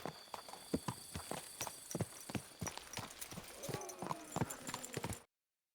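Horse hooves clip-clop at a steady walking pace in Kingdom Come: Deliverance II, close and fairly distinct, with a tonal ringing sound near the end.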